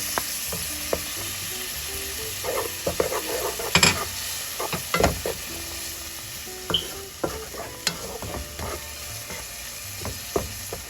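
Garlic sizzling in a frying pan with peppers and onions for rice and sausage: a steady close sizzle with scattered spoon scrapes and light clinks against the pan, no talking.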